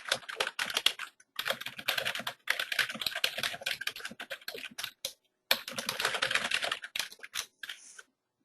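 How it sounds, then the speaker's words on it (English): Rapid typing on a computer keyboard, close and crisp, in steady runs of clicking keystrokes broken by short pauses, with no voices. "then you can type message"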